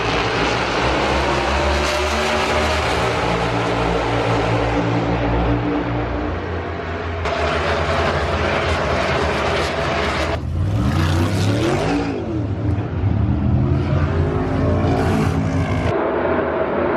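NASCAR race cars roar past at Texas Motor Speedway, a loud, continuous wall of engine noise with rising and falling pitch sweeps as the pack passes close by, sustained throughout.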